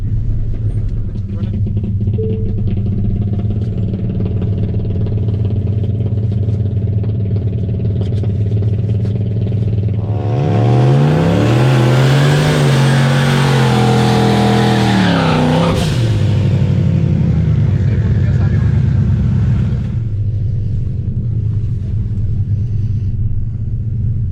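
A Tesla Model S and a Buick Grand National drag racing at the strip: a steady low rumble swells into a loud rising engine roar with tire noise for several seconds, then fades back to idle rumble.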